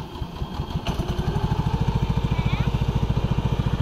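A Walker ride-on lawn mower engine catches after a short crank and settles into a fast, even chugging beat, close and moderately loud.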